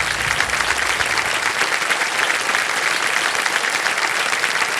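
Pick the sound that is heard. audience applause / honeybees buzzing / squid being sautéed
audience applause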